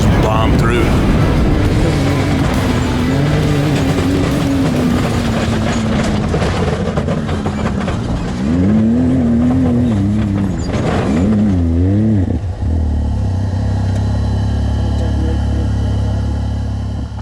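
Mint 400 off-road race cars thunder past on a desert course in the rain, engines roaring loud and close with rising and falling pitch as they pass, under talk from nearby voices.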